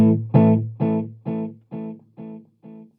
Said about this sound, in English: I'm hearing a little bit of distortion in the repeats